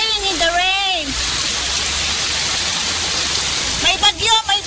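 Heavy rain in Singapore pours down as a dense, steady hiss, with a person talking over it at the start and again near the end.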